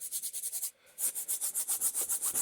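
A brush or cloth rubbing thin paint into a canvas, a close, rhythmic scrubbing of even back-and-forth strokes with a short pause near the start, no voices.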